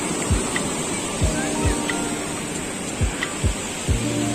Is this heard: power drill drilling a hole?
no